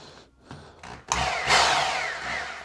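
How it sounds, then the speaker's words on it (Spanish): An electric drill plugged into a newly wired wall outlet gives a few short bursts, then spins up loud and close into a sustained whine that slowly winds down, with no talking. "yo conectaré un taladro para que vean que está funcionando bien"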